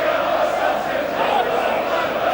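A large football crowd at Turf Moor, Burnley, during a Burnley versus Blackburn Rovers match in December 2000, a loud continuous roar of massed voices and chanting filling the stadium without pause.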